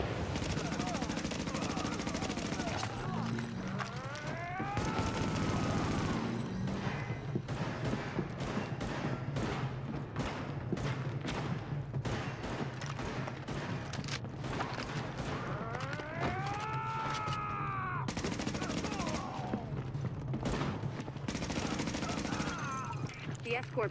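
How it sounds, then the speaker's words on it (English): Heavy automatic gunfire from a rooftop gunner in the video game The Division rattles in dense, continuous bursts, loud and close, with sharp crackling shots and whining ricochet-like sweeps layered throughout. "Escort party's taking heavy fire from the roof."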